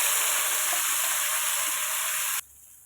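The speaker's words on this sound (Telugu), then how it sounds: "మసాలా పచ్చివాసన పోయే వరకు ఫ్రై చేసుకొని మనకి ఆయిల్ అనేది సపరేట్ అవ్వాలి" Masala sizzling in hot oil in a pan for egg curry, a loud steady hiss and crackle that cuts off abruptly near the end, leaving quiet room tone.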